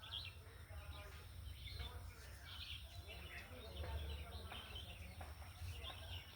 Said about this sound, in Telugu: చక్కటి పిట్టల అరుపులు